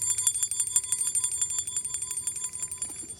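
A bell rung repeatedly to call homing pigeons down to land, giving a rapid series of bright metallic strikes that ring out steadily, fairly close, with no talking.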